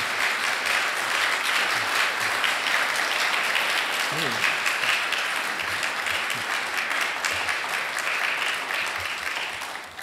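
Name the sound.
audience applause in a church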